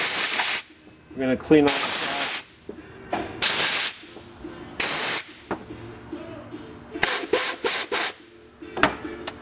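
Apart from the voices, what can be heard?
compressed air blowing to clean a valve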